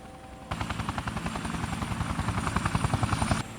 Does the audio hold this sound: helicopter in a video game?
yes